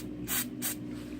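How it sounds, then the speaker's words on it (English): Throttle body cleaner sprayed onto scooter wiring from an aerosol can, two short hissing bursts in quick succession, close and fairly loud, followed by quiet. "Get some throttle body cleaner again to get all the carb out."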